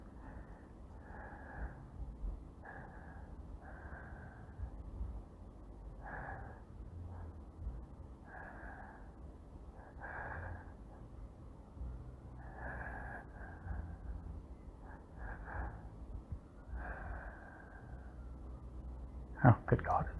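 A man's slow breathing picked up close by a microphone, soft regular breaths drawn in and let out at even intervals while he waits, ending in a brief sharper noise.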